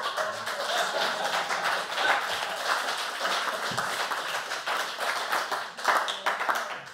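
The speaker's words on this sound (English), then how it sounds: "Applaud as little or as much as you'd like." An audience at a medical presentation at the Royal Society of Medicine claps steadily for seven seconds, a fairly close and busy patter of hands with some light chuckling mixed in.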